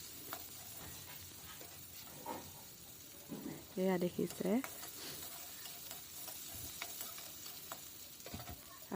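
Onion with crushed ginger and garlic sizzles steadily in a frying pan beside kohlrabi, with stirring scrapes throughout; someone speaks briefly over the frying partway through.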